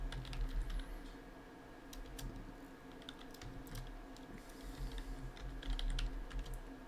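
Rapid keystrokes on a computer keyboard as a gift code is typed into a game menu box, irregular clicking taps in short bursts over steady low background hum, close and moderately loud.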